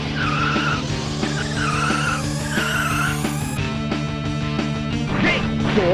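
Race cars skid and crash in the video game Rock n' Roll Racing, with screeching tire squeals, a rising engine whine and metallic impacts over a steady, chiptune-like electronic backing.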